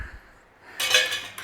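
Pulled beef being mixed with broth and onions in a pan: a short burst of metal utensil clinking and scraping after a quiet moment.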